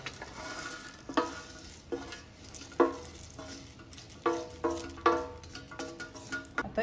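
Whole spices such as fenugreek and triphal being dry-roasted in a wide pan for Malvani masala, with repeated stirring scrapes and light crackling taps at an uneven rhythm, close up and fairly quiet, no talking.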